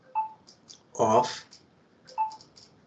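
A mobile phone gives off short electronic beeps at the start and end, interrupting a spiritual lecture on the disappearance of Ramanujacharya, while the lecturer's voice comes through in the middle.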